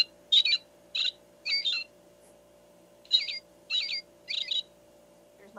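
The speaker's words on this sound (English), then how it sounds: "there's my robin" Recorded American robin song played through a small speaker in an electronic mug, heard as two clear bursts of three bright chirping phrases with a steady electronic hum underneath.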